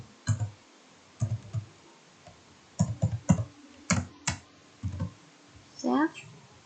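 A computer keyboard clicks in short, separate bursts of keystrokes, close by, with quiet gaps between the groups of key presses.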